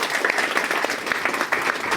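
An audience at a live science show claps steadily in continuous loud applause from nearby, with no voices over it.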